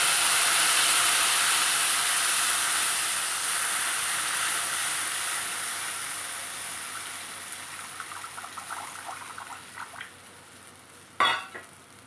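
Steam hisses from a pot of mango sambar, a broad steady hiss that slowly fades, followed by light stirring taps and a short louder clatter near the end.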